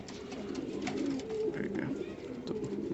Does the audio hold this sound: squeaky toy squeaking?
no